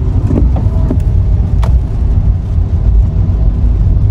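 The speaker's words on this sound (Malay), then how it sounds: "Dia menyebabkan kesesakan trafik" Cars jammed in heavy traffic on the Damansara highway give a loud, continuous low rumble of idling and creeping engines, close up with no voices.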